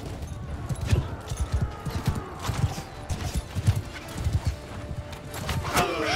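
Horse hooves in the video game Mount & Blade II: Bannerlord with The Old Realms mod: steady clip-clop galloping footfalls, close and prominent, with a brief whinny and busy battle noise behind.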